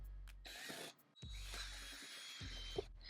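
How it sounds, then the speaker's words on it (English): Power tool cutting a hole in a piece of wood, in two bursts of whining, rattling motor noise separated by a brief pause, close and fairly loud. "we're going to attempt to cut a hole out of this piece of wood with a drill and the jigsaw."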